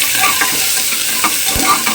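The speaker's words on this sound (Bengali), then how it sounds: "এখানে আমি টমেটো আর পেঁয়াজ একসঙ্গে ভাজছি" Tomato and onion fry together in hot oil in a pan, a steady close sizzle with occasional stirring scrapes and soft pops.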